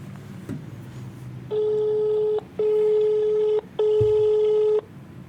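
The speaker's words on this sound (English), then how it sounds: "I'm receiving a call in my driver phone number." A call ringing through to a driver's phone on a masked-number calling system: three long, even ringback tones separated by short gaps, loud and clear, with faint background noise between them.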